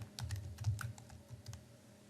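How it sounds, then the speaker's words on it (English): Fingers type briskly on a computer keyboard during Photoshop work, a close run of quick, uneven key clicks lasting a couple of seconds with no voices. "So now when I type in"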